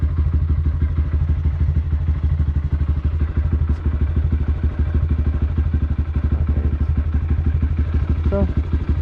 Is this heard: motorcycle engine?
yes